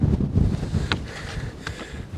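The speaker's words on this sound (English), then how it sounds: "Rather breezy up here" Wind gusting across the exposed summit of Beinn Dubhchraig, a Scottish Munro, buffeting the microphone with a loud, steady low roar and a couple of brief sharper gusts, with no voices.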